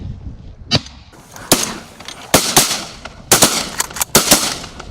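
Shotguns firing at mallards during a flooded-corn duck hunt, a series of sharp loud blasts spread unevenly, some singly and some in quick pairs, over quiet outdoor background.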